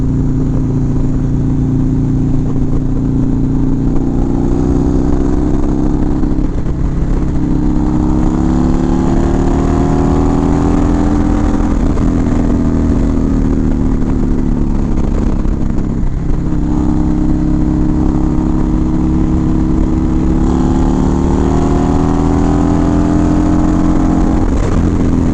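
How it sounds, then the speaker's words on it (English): A motorcycle engine revs loud and close for the whole stretch, pitch swelling and falling in repeated throttle blips over a steady rumble, with no voices. "It's not really a high revving bike, but it's fun"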